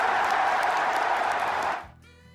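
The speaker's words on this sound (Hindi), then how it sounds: "स्टेडियम भर के लोग आपकी हार पर तालियां बजा रहे हैं" Stadium crowd at a Fortnite final applauding, a dense wash of clapping and cheering that holds loud, then cuts off sharply near the end into quiet.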